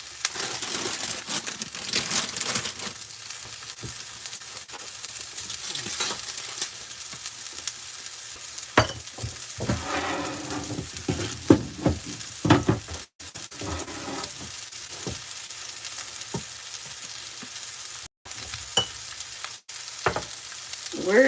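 Beef tips sear in a pan on medium-high heat, a sustained sizzle broken by clattering stirs, scrapes and crinkling bursts, with a few abrupt dropouts.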